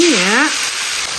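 Oil hisses and sizzles steadily on a hot iron griddle used for Indian-style fried noodles, loud and close, after a brief vocal exclamation at the very start.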